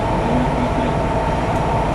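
Steady interior rumble of a Nagoya Metro subway train in motion, a continuous loud drone with a faint tonal hum throughout and no talking.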